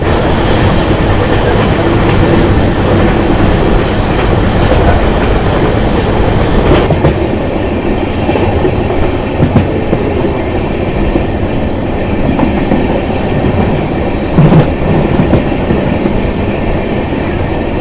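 Gomateshwara Express passenger train from Bengaluru to Mangaluru running on rails, a loud continuous rumble and clickety-clack of wheels heard from inside the coach, steady throughout with brief metallic squeals.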